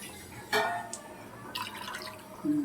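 Another glass of water goes into a pot of mutton and drumstick curry, making a short splash followed by a brief run of liquid and dripping. It is heard close up against a quiet kitchen background.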